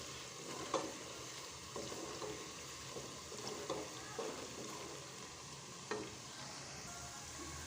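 Onions and whole spices fry gently in a pan for minced-meat qeema, a soft, steady sizzle with a few light stirring taps.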